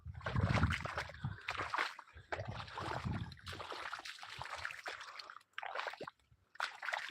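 Water splashes and sloshes through a waterlogged three-acre cotton plot with pooled rainwater, an irregular, fairly close rushing and gurgling that comes and goes with brief quieter gaps.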